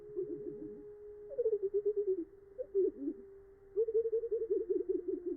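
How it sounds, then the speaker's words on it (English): Birdsong slowed far below normal speed becomes low, warbling phrases of rapid pulsing notes, repeated in bursts separated by short pauses, with no other sounds. "the rhythms and the repetitions of birdsong are imperceptible to us at normal speed"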